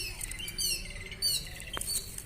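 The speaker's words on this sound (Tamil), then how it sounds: "அம்மா பறவை ரொம்ப நேரமாக வந்துட்டு கத்திகிட்டே இருக்காங்க." A mother bird calls near a nest holding blue eggs, giving several high thin chirps and tweets at moderate distance, followed by a brief sharp rustle, with no voices.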